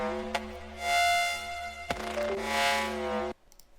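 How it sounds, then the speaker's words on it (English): A reversed sound with swelling tones that fade in rather than out, sharp clicks, then an abrupt cutoff near the end. "I reversed this and it sounds like this in this section."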